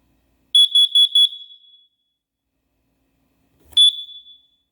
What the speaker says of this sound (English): You can hear the 2 different voices, fire or carbon monoxide, and it's pretty loud.